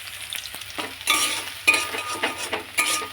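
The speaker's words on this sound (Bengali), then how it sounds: "আলুটা ভাজা হচ্ছে" Potatoes frying in a pan give a crackling sizzle, broken by a few louder bursts of stirring and scraping, heard up close with no one talking.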